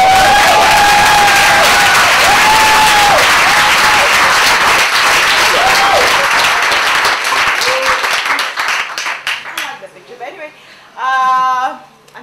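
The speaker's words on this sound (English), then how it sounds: "please give a round of applause to our first speaker for the evening" Audience welcoming the evening's first speaker with loud, dense applause and some cheering that fades away toward the end, while an announcer's amplified voice sounds over the clapping.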